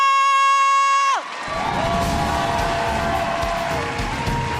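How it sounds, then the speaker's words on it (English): Crowd at a Heroes of the Dorm national esports championship cheering for Laval, loud roaring and whooping that erupts after a short synth musical sting and stays sustained. "Cheer now if you believe in Laval!"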